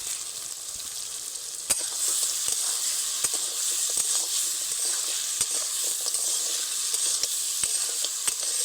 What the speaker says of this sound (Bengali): এইবার ভেজে রাখা আলু আর কাঁকড়া একসঙ্গে দিয়ে মশলার সঙ্গে 2 থেকে 3 মিনিট মতন নেড়ে নেব